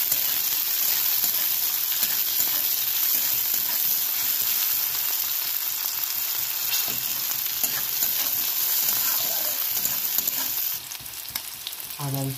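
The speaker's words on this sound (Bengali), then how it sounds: "ভালো করে ভেজে নেবো।" Chopped tomato and onion fry in hot oil, a loud, continuous close-up sizzle and crackle lasting the whole stretch, easing slightly toward the end.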